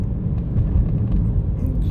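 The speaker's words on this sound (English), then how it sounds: "Listen to that road noise." Road noise inside a 2016 Jeep Patriot Sport while driving: a loud, steady low rumble of tires and wind filling the cabin, continuous and without talk.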